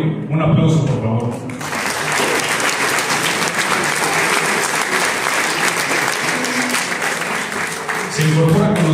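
Loud, sustained applause from an audience at an electoral institute public event, steady dense clapping filling about eight seconds, with brief murmuring and voices at the start and end.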